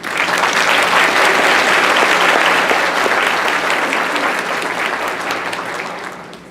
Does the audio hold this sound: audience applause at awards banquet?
yes